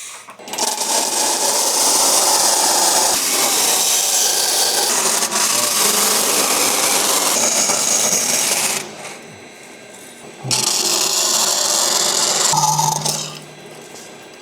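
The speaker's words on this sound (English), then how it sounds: "This is a big saw." A large saw with a wide 3/4-inch blade cuts steadily through stock during fuel vent and pumper mount fabrication, a loud continuous rasping drone that pauses briefly and then resumes before stopping.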